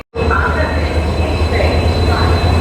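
A diesel-hauled Barmer–Rishikesh Express at a station platform in Ambala: a loud, steady low rumble and hum of the locomotive and rolling train continues throughout, with constant station ambience and no speech.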